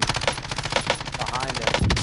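Rapid video game gunfire in a night-time multiplayer shooter, a dense burst of automatic shots cracking loudly and continuously for about two seconds.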